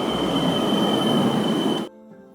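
A train running in the Netherlands heard from on board, loud continuous rolling rumble with a steady high whine of wheels on rails, ending suddenly into near quiet.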